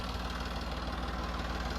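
A tractor engine runs during ploughing with a steady, heavy low chugging and a constant throb that stays loud and close, with no pause in the rhythm.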